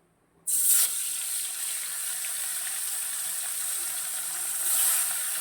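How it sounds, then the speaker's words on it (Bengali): Fish dropped into hot oil in a kadai sets off a sudden loud, steady hiss and crackle of frying that carries on evenly, swelling again near the end. "কড়াইয়ে তেলটা গরম হয়ে গেছে চলো এবার মাছটা ভেজে নিই"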